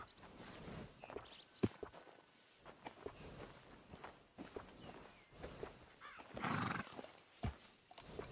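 A horse in a stable whinnies loudly near the six-second mark, with soft hoof steps and shuffling around it; no one speaks.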